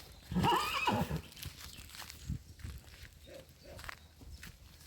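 A Percheron horse neighs loudly near the start with a shaky, descending whinny, followed by softer snorts and low shuffling sounds.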